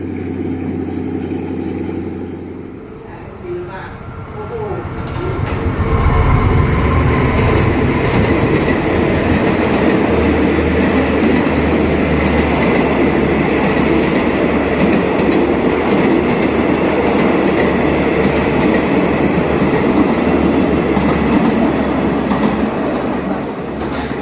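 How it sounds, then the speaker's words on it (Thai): A passenger train rolls past on the southern double-track railway near Ban Khu Bon station, loud and close. Its steady rumble and the clatter of wheels over the rails build up after a quieter start and hold for about twenty seconds. "อีกหนึ่งขบวนนะครับที่มาตามเวลานะครับ38และ46นะ"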